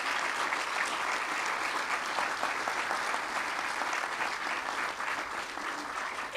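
Steady, dense applause from an audience at a Dorchester ribbon-cutting ceremony, honoring the Boston Fire Department; the clapping holds evenly throughout with no speech over it.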